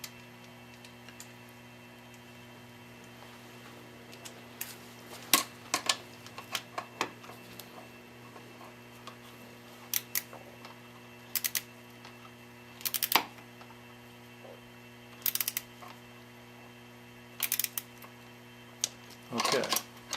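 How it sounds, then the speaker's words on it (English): A torque wrench set to 28 newton meters tightens motorcycle cylinder head bolts. Short bursts of ratcheting clicks come every couple of seconds, close and sharp over a low, constant background hum. "So we've got a torque wrench set to 28 Newton meters."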